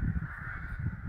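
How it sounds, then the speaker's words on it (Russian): Rooks caw outdoors in the countryside on a warm day, their calls a steady, continuous chorus at middle distance over a low rumble of light wind. "Грачи кричат."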